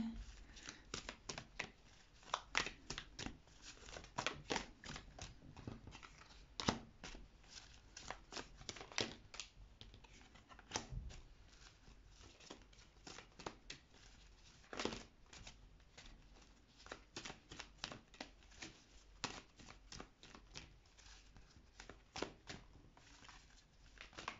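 Tarot cards being shuffled and laid out, a long run of faint, close riffles, flicks and soft papery snaps in irregular rhythm over a quiet background.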